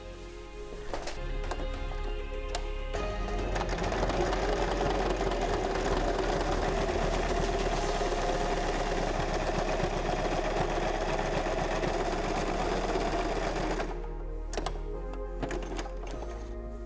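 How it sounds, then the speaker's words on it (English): A sewing machine zigzag stitches fleece blanket pieces into a giant Minecraft Creeper, running in a steady fast whir for about eleven seconds, with brief starts and clicks before and after, close and alone. "I'm going to start sewing it, putting the corners in like I did with the rest, and zigzag stitching all around"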